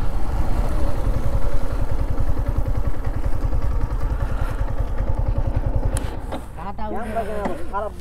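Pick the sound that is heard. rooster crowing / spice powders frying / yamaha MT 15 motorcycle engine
yamaha MT 15 motorcycle engine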